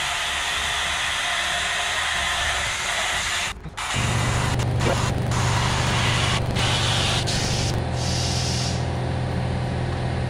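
A compressed-air inflator hisses steadily into the brass valve stem of a large tractor tire, with a click and brief pause partway through before the strong broadband rush resumes and continues to the end.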